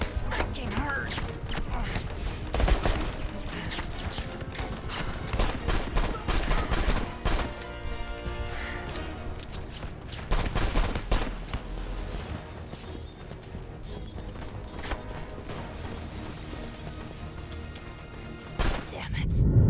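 Gunfire in Left Alive rattles almost continuously in dense, loud bursts mixed with impacts and game sounds, while a voice speaks over parts of it.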